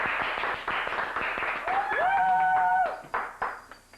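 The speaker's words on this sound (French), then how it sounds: "Alors, applaudissements, s'il vous plaît." A studio audience applauds in a moderate, steady patter of many hands, joined partway through by a brief rising musical jingle, before the clapping tapers off into scattered claps.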